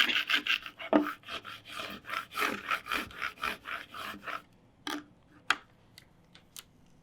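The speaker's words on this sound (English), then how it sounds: "I'm going to take the scraper and I am just going to scrape it along the lines that were cut out" A scraper dragged along cut lines of a vinyl design on canvas, giving a run of quick, dry rasping strokes at close range that thin out into a few isolated scrapes.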